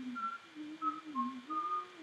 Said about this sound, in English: It's got that whistle.